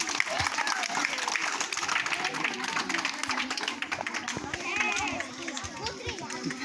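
A primary-school class of sixth graders claps together in a classroom, a dense steady patter of many hands running throughout, with children's voices and chatter mixed in.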